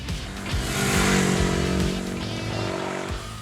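A 2022 Ducati Hypermotard 950 RVE supermoto rides through the city, its engine droning loud and close with rising and falling revs for a few seconds and no talk.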